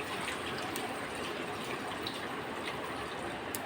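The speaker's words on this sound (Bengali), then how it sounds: "আমি এখন এর ভিতরে মাপ মতন জল দিয়ে দেবো" Water is poured steadily into a cooking pot of simmering bottle gourd curry, a continuous close gushing splash that holds at an even level throughout, with no one speaking.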